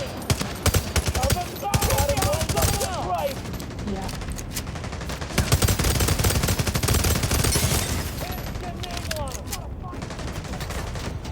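Gunfire in The Division Resurgence video game, with rapid bursts of automatic shots and sharp single cracks continuing throughout. Some speech-like sounds appear under the shooting.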